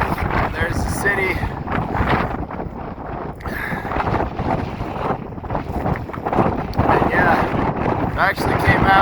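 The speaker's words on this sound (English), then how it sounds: "so it's quite windy" Strong outdoor wind buffets the microphone throughout on the Embudito Trail, a mountain hiking trail overlooking a city, a steady loud rumbling roar with gusts, and a person speaks over it.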